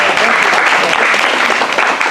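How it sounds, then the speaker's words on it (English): Sustained, dense clapping from a zoo show audience at Rainforest Adventures Zoo in Sevierville, Tennessee, steady and loud throughout with no break. "Give them a round of applause."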